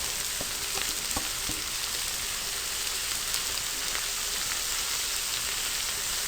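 Peas, potatoes and tomatoes frying on a tawa for street-style pulao, a dense, even sizzle like light rain that holds throughout, with a few sharp clicks early on, close and steady with no talk.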